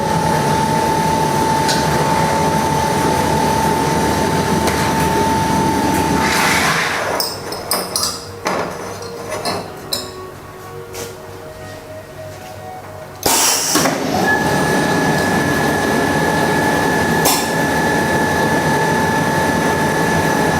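A PLC-operated pneumatic piston filling machine for liquid and paste bottles runs on a constant loud compressed-air hiss and mechanical hum, broken by a quieter stretch of clicks and knocks before the steady noise returns.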